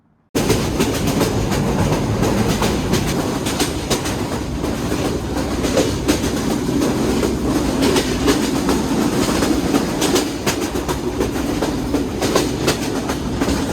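A passenger train rattling along the rails through village countryside, a loud continuous clatter of wheels with rhythmic clicks and jolts, heard from inside the carriage after a brief silent start.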